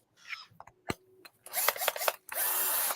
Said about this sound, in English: you get such a janky electric drill that you can't strip them